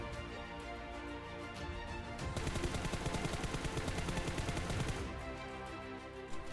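Gunfire from an unattached gun in a battle royale video game, a sustained rapid burst of automatic shots lasting a few seconds, loud over steady in-game background sound, then stopping.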